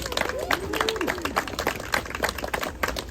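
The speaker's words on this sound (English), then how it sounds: "Let's give her another round of applause." A farmers market crowd applauds a speaker, scattered moderate clapping rippling steadily across the gathering with some voices mixed in.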